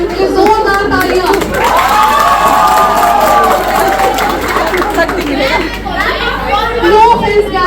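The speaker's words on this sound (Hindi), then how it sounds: "जोरदार तालियां" Crowd at a Life Sciences fresher party erupts in cheering, whoops and clapping, loud and close, with lively chatter and young voices mixed throughout.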